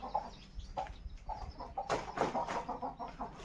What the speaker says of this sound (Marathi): काय नाही करत ती कोंबडी